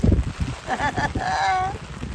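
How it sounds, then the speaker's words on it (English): Driving wind and rain buffet a narrowboat on a canal, a steady rushing wash with gusty roar, heard close by, with faint voice-like sounds mixed in. "We have driving wind and rain at the moment."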